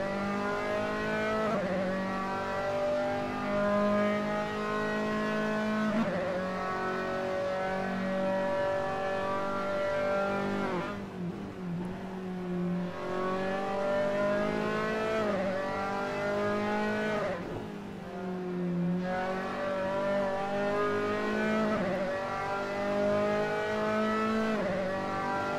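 Formula 3 race cars in a sim racing video game, a loud, continuous high-pitched engine whine that climbs through the gears and drops on each upshift, with a couple of deeper dips as the car backs off.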